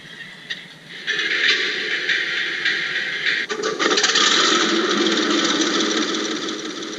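A steady, loud mechanical engine rumble from a Tamiya 1/16 RC Jagdpanther tank's sound unit, with a buzzing, motor-like whine that holds constant and swells slightly midway, no voices.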